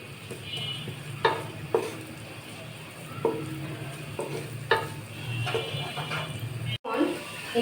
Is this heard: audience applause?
no